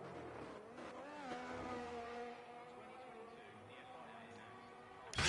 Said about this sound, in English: So here comes Piano Jam in the Alfa Romeo